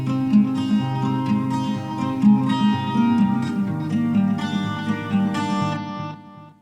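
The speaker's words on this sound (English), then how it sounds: "Without the reverb, it sounds something like this." A dry electric guitar loop without reverb plays rhythmic picked notes and chords for several seconds, recorded in FL Studio, then cuts off.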